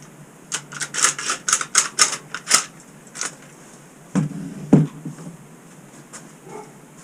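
Pipe clamps and fabric clamps are tightened on a glued-up wooden table top, with rapid bursts of clicking over the first few seconds, then a few scattered knocks and a sharp thump.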